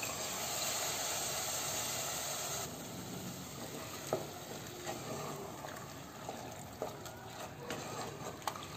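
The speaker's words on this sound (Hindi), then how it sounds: "मसाला बहुत बढ़िया फ्राई गल छै" Spices and black chana fry in a pan for Mithila-style ghugni, a continuous low sizzle and hiss with occasional stirring clicks and scrapes, fairly quiet and steady throughout.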